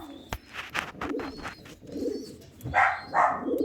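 Pigeons in a coop coo and call, close by and in short bursts, with a few rustling and scuffling sounds and no voices.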